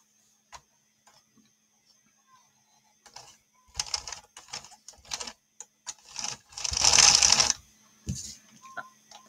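A Sentro 22 circular knitting machine cranked by hand gives a run of rapid plastic clicks and ticks that builds into a dense rattling burst, then trails off into scattered clicks.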